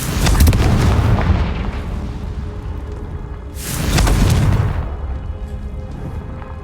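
Confringo blasting spells firing in Hogwarts Legacy, two heavy booming explosions a few seconds apart, each with a sharp crack and a rumbling decay, with no talk over them.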